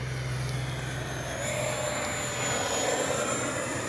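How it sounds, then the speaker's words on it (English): An FMS 64mm F/A-18 Hornet RC jet flies past, its electric ducted fan giving a steady, fairly loud whine and rush that holds throughout with slight swells, heard alone outdoors. "Good sounding plane too."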